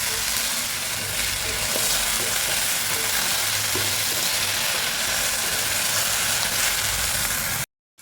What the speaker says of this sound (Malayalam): സവാളയും തക്കാളിയൊക്കെ വഴന്ന് വന്നിട്ടുണ്ട്.